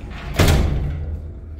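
Hormann BERRY N80 garage door with ECOSTAR automation, its emergency release pulled, being closed by hand: a single loud thump as it shuts, followed by a brief low rumbling decay, with no talking.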